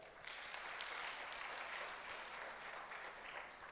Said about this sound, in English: let's give them a much better hand clap.